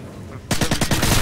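Automatic gunfire in a shooter video game, in Search and Destroy on the Dome map: a sudden, loud, rapid burst of about eight close shots after a brief quiet lead-in.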